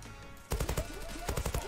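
Automatic gunfire in the Zula online shooter game, a rifle fitted with a bayonet attachment: two quick bursts of loud, rapid shots separated by a short pause, close and punchy over constant game background noise.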